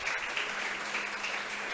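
A congregation at a Spanish-language church service applauds in a dense, steady wash of clapping, sustained and even throughout.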